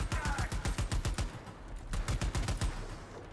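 Automatic bursts from the MA70 HB light machine gun in Cyberpunk 2077, loud rapid shots in two strings separated by a short pause, with no talk over them.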